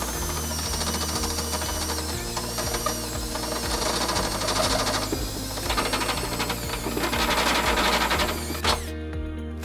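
A step drill bit slowly enlarging a hole in the frame of a 2013–2022 Nissan Sentra during a trailer hitch installation, with a repetitive mechanical whirring and rattling grind, close and steady.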